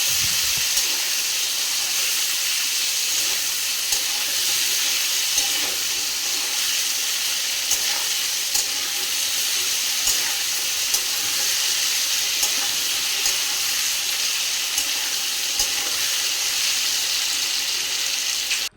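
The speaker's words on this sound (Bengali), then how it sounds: "আলুটাকে লাল করে ভেজে নিতে হবে" Potato pieces fry in hot oil in a pan with a constant, dense sizzle and hiss that holds steady and fairly loud from start to finish, with no voice over it.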